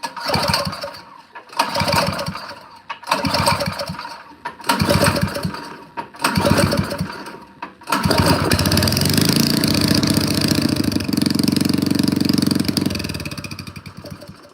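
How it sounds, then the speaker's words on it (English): A snow blower engine combined from Craftsman and Troy-Bilt machines is pull-started, with five or six loud rhythmic cranking bursts separated by pauses, then catches and settles into a steady, loud running roar. "Alright, we got it running."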